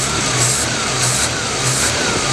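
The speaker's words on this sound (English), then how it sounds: "You'll see, motor runs good," A 1934 Ford two-door sedan fitted with a stock GM V6 runs smoothly on electric choke, its engine idling close and loud with a steady, even hum and slight rhythmic pulsing.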